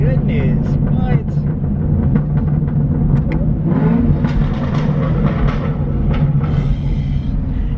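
Loud, dense engine roar from a 2017 Chevrolet Camaro 2SS being revved, a deep rumbling drone that swells and stays heavy throughout with higher rasping bursts layered on top.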